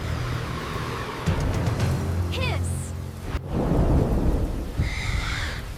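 A prehistoric forest storm mixes steady rain with rolling thunder and a sharp crack midway, while high chirping animal contact calls cut through, all loud and enveloping.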